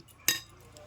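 A single sharp metal spoon clink against a bowl as a spoonful of white oil goes into the batter, brief and close in an otherwise quiet kitchen.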